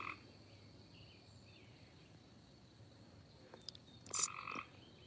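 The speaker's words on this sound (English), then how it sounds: "Tree frogs croaking in the trees." Tree frogs croak in a quiet night chorus, with one loud, close burst of croaking standing out near the end over faint insect buzz.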